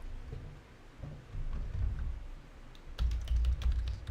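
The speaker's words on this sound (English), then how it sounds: "this is really exciting because you get to see me type" Keys on a computer keyboard clatter in short irregular bursts, close and fairly quiet, over a low rumbling background.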